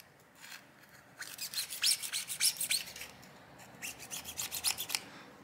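A flathead screwdriver scrapes dirt and grime from the trim of a Samsung Galaxy S20 FE phone, in two close bursts of quick, rhythmic rasping strokes.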